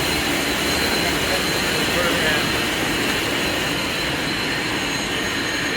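An airlift air pump at a wastewater treatment plant runs with a constant, loud, broadband rushing roar, unbroken throughout.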